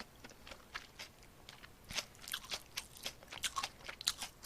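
Close-up eating of bibimmyeon cold spicy noodles with pork belly salad, with crisp crunchy bites and steady wet chewing in quick irregular bursts, no talking.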